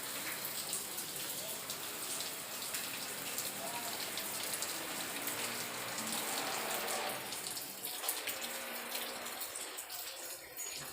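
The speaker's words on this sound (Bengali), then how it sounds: "এখানে ফুটো হয়ে জল পড়ছে" Water dripping and running through a leaking roof, a steady broadband patter like rain on a surface, continuous and fairly close throughout.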